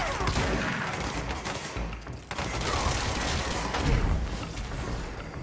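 Rapid bursts of weapon fire in the game Control, loud and dense with chaotic combat effects, a short dip near two seconds before the shooting resumes, no clear talking.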